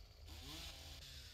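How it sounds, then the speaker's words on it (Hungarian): A power saw cuts through a block in the survival game 7 Days To Die, giving a steady, loud engine-like buzz that holds for the whole stretch with a small swell midway. "próbálom itt fűrészelni"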